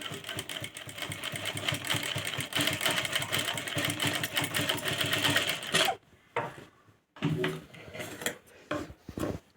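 Sewing machine stitching fabric while cutting basic neckline shapes: a loud, steady rapid needle chatter runs for about six seconds, then breaks into a few short stop-start bursts with quiet gaps between them.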